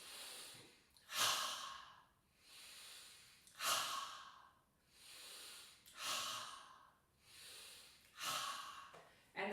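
Slow, deep breaths during seated chair yoga shoulder lifts, each long airy inhale and exhale swelling and fading in a steady rhythm, about five cycles, close to the mic with no talking.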